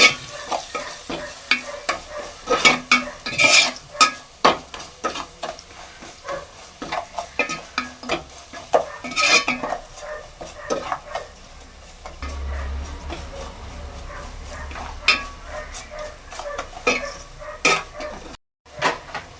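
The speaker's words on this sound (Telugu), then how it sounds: "పసుపు పొడి తగినంత కారం వేసుకొని కలుపుకోవాలి" A spoon repeatedly scrapes and clanks around a pot as turmeric and chili powder are stirred into an Andhra-style fish curry, with a soft sizzle beneath. The knocks come in an irregular rhythm, close and fairly loud.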